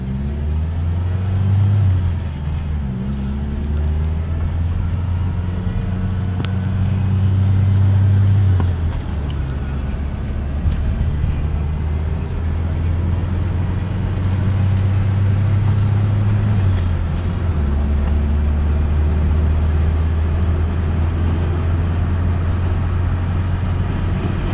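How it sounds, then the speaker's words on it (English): A 1988 Ford Ranger XLT pickup with a 2.3L four-cylinder engine drones steadily from inside the cab, its pitch rising and settling through gear changes over a constant road and wind rumble, with no talking. "Really drives nice for an almost 30-year-old truck."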